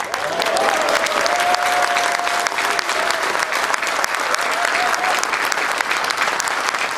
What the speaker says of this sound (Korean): 홍준표 의원은 소감에서 깨끗하게 결과에 승복한다고 말해 당직자들로부터 큰 박수를 받았습니다.